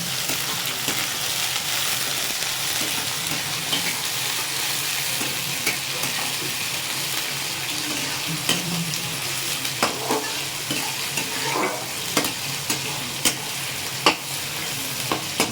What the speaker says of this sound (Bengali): চলুন পেঁয়াজটা লাল লাল করে ভাজা হোক।